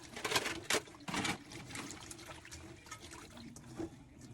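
Dried anchovies are rinsed by hand in a bowl of water in a home kitchen, with close sloshing, splashing and trickling in irregular bursts, fairly quiet and without speech.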